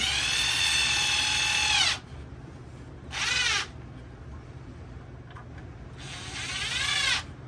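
Power drill driving screws into a wooden block, three whining bursts of differing length with quiet gaps between, close and loud.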